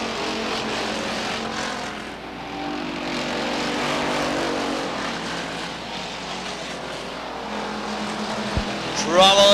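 Stock race cars circle Beech Ridge Motor Speedway in 1989, engines droning steadily at mid distance with rising and falling passes, a sustained mechanical roar throughout.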